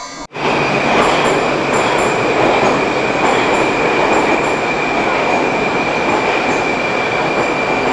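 A metro train rolls into a station in Baku with a loud, steady rumble and a thin, sustained wheel squeal that lasts the whole stretch, close and dominant.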